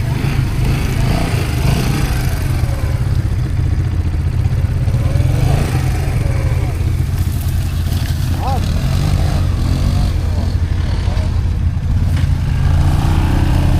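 Quad bikes, such as a Linhai 550, BRP 1000, Yamaha Grizzly 700 and Honda Rincon, churn along an off-road track, a loud continuous engine roar with rattling under occasional voices.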